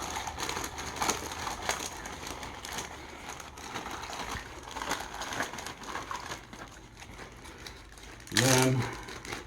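Dry curing salt mix for homemade bacon is stirred and shaken inside a bag, giving a steady, close rustling and crinkling texture with a brief sharper burst near the end.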